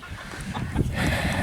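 Chickens in a small backyard flock cluck in short, irregular bursts, fairly close, over steady outdoor background noise with no talking.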